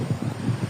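Wind buffets an outdoor microphone on the Camino de Santiago pilgrimage route, a continuous low, rumbling roar that swells and dips in gusts throughout, with no voices.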